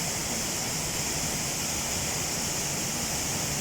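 A waterfall roars nearby with a dense, steady rush of falling water. The wash stays loud and unbroken throughout and has no voices over it.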